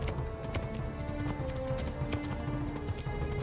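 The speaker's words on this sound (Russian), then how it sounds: "Скачи, лошадка." Horse galloping in the medieval video game Kingdom Come: Deliverance, a steady rapid clip-clop of hooves over a dense, continuous game soundscape with no talk.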